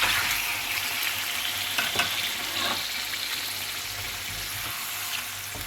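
Chicken pieces fry in ghee with ginger garlic paste in a kadai for chicken karahi, giving a continuous loud sizzle with brief clatter as they go in and get stirred. No one talks.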